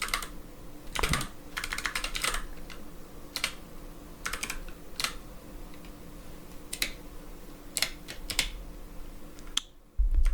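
Fingers tap on a computer keyboard in quick irregular bursts of clicks, close and crisp against a quiet room, ending with a sudden low thump.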